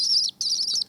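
A swift chick squeaks in rapid, high-pitched bursts while begging for food, two long runs of shrill chirping split by a brief pause, close and fairly loud with nothing else heard.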